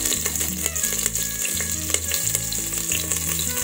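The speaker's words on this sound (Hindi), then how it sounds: "हरी मिर्च डाल दिए हैं" Green chillies frying with cloves and cardamom seeds in an open pressure cooker for veg pulao, a loud continuous sizzle over a low rumble, with light scrapes of stirring and no voices.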